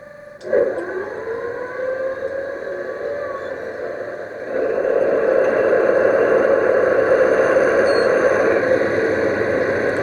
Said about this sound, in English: there's a really deep burble sound coming from this now. And the whole table's vibrating.